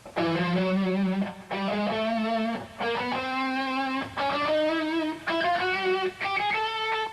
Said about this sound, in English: The scale would be like this, starting on E.